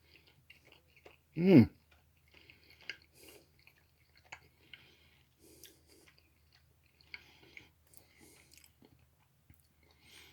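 Someone chews a piece of honey wheat bread close up, with one loud bite or vocal burst near the start and soft, scattered chewing sounds after it.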